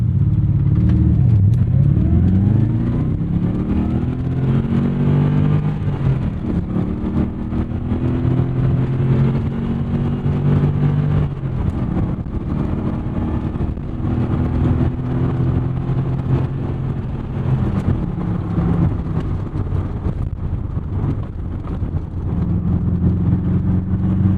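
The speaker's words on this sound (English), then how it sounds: "Big displacement, torquey engine, not as much going on at the top end." The big-displacement V8 engine of a 1991 Chevrolet Corvette C4 ZR-1 roars under hard acceleration, its deep note climbing through the revs, shifting, and pulling again, loud and close throughout.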